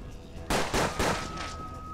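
A revolver fires in the Hard West video game: three loud, sharp shots in quick succession, each with a short ringing decay, over a quiet game backdrop.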